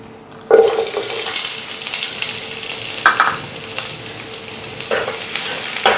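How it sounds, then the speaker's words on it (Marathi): Onion fries in a spoonful of oil in a pan for Dhaba-style egg masala, starting with a sudden sizzle as it hits the pan, then a steady close hiss broken by occasional stirring scrapes. "लालसर रंग येईपर्यंत आपल्याला हा कांदा छान भाजून घ्यायचा आहे"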